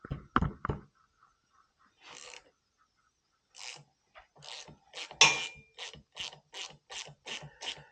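A 12-point 3/8-inch socket ratchet working front brake caliper bolts on a 1975 Harley Davidson Shovelhead, giving up-close bursts of rapid clicking separated by short pauses and a few knocks.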